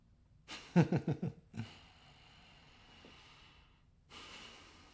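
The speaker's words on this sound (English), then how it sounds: "I feel like doing some Wim Hof breathing exercises" Wim Hof breathing exercise: a burst of several quick, forceful breaths in close succession, then a long quiet hiss of breath and a softer exhale at the end.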